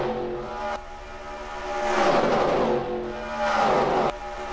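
Engines of race cars in a Nintendo Daytona 500 racing video game roar continuously, with two rising, sweeping pitch passes as cars surge by, loud and close with no voice over it.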